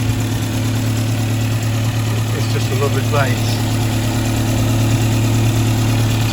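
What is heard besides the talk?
1960 Sunbeam Rapier Mk 3 1500cc twin carb engine idling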